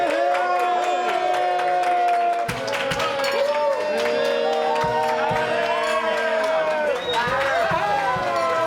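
Crowd of people cheering and clapping at the reveal of a restaurant makeover, a loud, steady wash of whoops and applause across the whole stretch, with voices mixed into the din.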